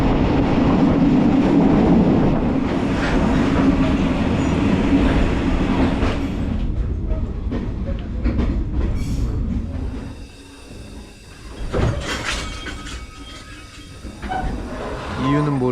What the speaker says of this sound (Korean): 한 번씩 기차가 갑자기 이렇게 천천히 가면서